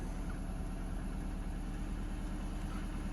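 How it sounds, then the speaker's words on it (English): A Subaru Forester XT engine idling after a MAF sensor cleaning with CRC cleaner: a steady, smooth low rumble with constant even level throughout, no revving. "Nice smooth idle."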